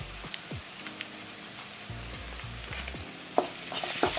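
Garam masala and biryani masala frying and being stirred in a pan make a low crackling sizzle with scraping spoon strokes. The sizzle grows brighter and louder near the end, and there is no talking.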